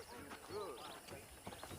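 Horse hooves clip-clop in the Red Dead Redemption video game, a light rhythmic patter of steps mixed with soft whinnying and game sounds, heard faintly beneath ongoing talk.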